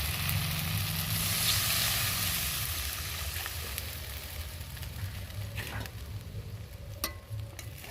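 Water poured into a pan of fried spice paste for a fish curry gives a loud, rushing sizzle that gradually settles into a softer bubbling hiss, with a few faint clinks near the end.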